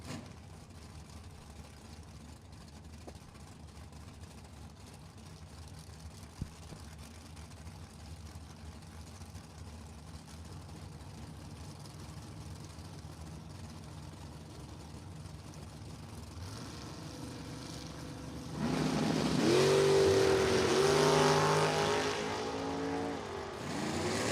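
A 1972 Nova and a 1957 Chevy launch side by side in a drag race, engines idling low before a sudden loud roar of hard acceleration rises and holds near the end.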